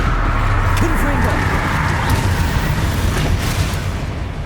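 Confringo blasting spell cast in the Hogwarts Legacy video game, a sustained booming, rumbling burst that fills the whole moment at close range, with a faint thin whistle rising briefly early on.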